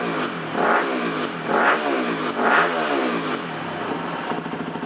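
Engine of a Yamaha WR250R motorcycle with a fuel injection tuner fitted, blipped in three loud revs that each drop back, then settling into a steady, close idle.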